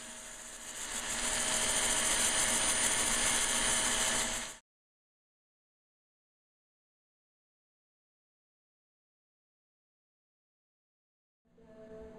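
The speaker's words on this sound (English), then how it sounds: "This is only a small portion of the sanding." A walnut sphere being sanded on a lathe, worked through grits from 100 to 400, gives a loud, steady whirring hiss for about four seconds that cuts off abruptly, then returns faintly at the very end.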